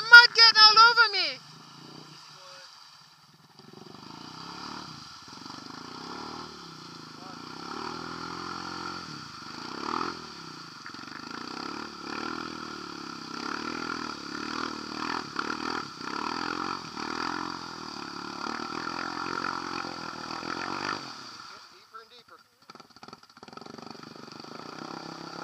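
A Honda Rancher 420 ATV with an HMF exhaust runs through mud, its engine a steady mid-pitched drone with rising and falling revs for about twenty seconds, starting after a brief shout.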